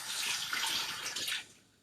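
Water from a kitchen tap splashes over something being rinsed, a bright continuous rush close by that holds steady, then tapers off and fades near the end.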